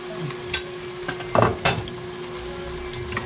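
Beef patties going into a pan for homemade spaghetti sauce with garlic and onion, a brief burst of sizzling and spoon scrapes against the pan, close, over a low steady background hum.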